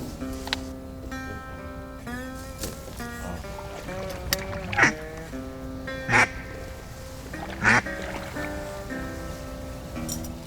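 Big ducks flying past on a duck hunt call out in a series of nasal, honking quacks, fairly close, rising in bursts over a steady outdoor background.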